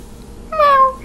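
Cat meow in the Roblox game Meow, a single loud, clear, drawn-out meow rising then falling, heard alone over near silence.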